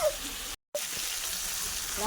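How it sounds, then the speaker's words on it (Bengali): Goat meat sautéing in a pan after onion, ginger and garlic have been fried, giving a steady close sizzle with a brief dropout partway through. "পেঁয়াজ আদা রসুন দিয়ে কষার পরে এবারে মাংসটা কষা হচ্ছে।"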